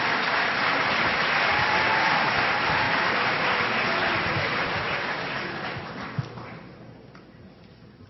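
A debate audience applauds in a large hall, a dense sustained roar of clapping that holds steady for several seconds and then thins and fades toward the end.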